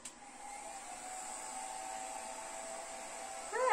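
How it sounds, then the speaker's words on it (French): A small travel hair dryer runs steadily with a high airy whine and even blowing hiss, fairly quiet, with a slight surge at the very end. "pour un sèche-cheveux de voyage, mais c'est trop bien"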